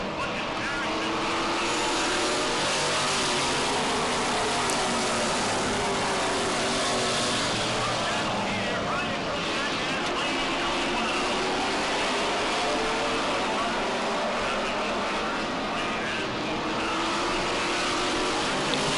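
Race cars roaring on an oval track after a restart with ten laps left, a steady dense engine drone under continuous commentary for the whole stretch.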